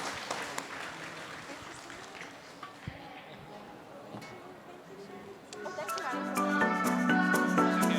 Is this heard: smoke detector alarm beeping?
no